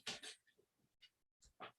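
A dog makes short snorting, sneeze-like bursts close by, several quick puffs separated by brief pauses, fairly faint overall.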